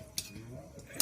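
A spoon clinks against a pot while stirring chicken bhuna with water on the gas, two sharp metallic taps about a second apart with soft scraping between, close and fairly quiet.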